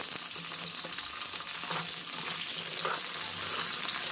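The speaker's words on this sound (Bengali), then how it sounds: "এবার আমি কড়াইয়ের মধ্যে তেল দিয়ে দিলাম তেলটা গরম করে এর মধ্যে দিয়ে দিচ্ছি সজনে ডাঁটা সজনে ডাঁটা হালকা ভেজে নিতে হবে" Moringa drumstick pods lightly frying in hot oil in a kadai, crackling and sizzling in a close, continuous hiss with occasional stirring clatter, with no talking.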